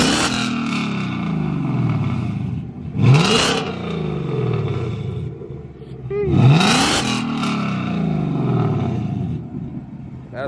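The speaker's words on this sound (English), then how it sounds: "let's go ahead and give it a thumbs up" A Ford Mustang GT engine revs hard twice, each surge rising sharply and falling back, over a steady rumbling idle with a carbon fiber hood fitted; loud and close, with voices talking in between.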